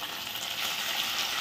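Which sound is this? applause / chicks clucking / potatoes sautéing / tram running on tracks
potatoes sautéing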